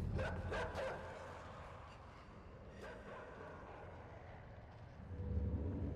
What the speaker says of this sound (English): the dogs can smell you and can go in the water